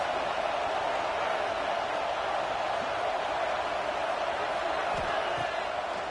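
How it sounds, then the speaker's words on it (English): Stadium crowd noise in a college football video game, Minnesota at Michigan, a steady loud roar of many voices that stays constant throughout with no breaks. "This crowd trying to make life miserable for this offense."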